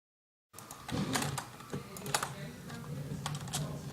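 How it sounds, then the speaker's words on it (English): Rapid, close computer mouse clicks fire in a quick, uneven stream while playing Minecraft, crisp and fairly quiet over a faint steady background hum. "Now I'm just going to spam click this until that is full"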